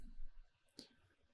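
A single sharp computer mouse click while importing a file in the Chord wavetable synth, near and alone over a quiet room hum.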